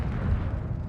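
A fireworks spell going off in the pixel-art game Noita, one short, loud, low booming burst with a rumbling tail.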